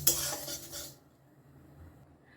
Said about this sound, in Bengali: এবার এটাকে একটু আমি শুকনো খোলায় ভেজে নেব